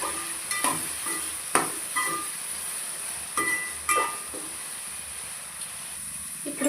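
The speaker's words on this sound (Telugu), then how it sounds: "పసుపు వేసి కలపాలి." Vegetables for vegetable rice fry in a pan as turmeric is stirred in, a steady close sizzle broken by scattered scraping and clinking stirs of the spoon, no talking.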